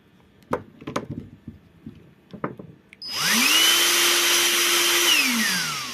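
A Grundig VCH 9630 2-in-1 vacuum cleaner, freshly repaired with new batteries, follows a few handling clicks and knocks. It spins up to a loud, steady motor whine close by, holds it, then starts to wind down at the end.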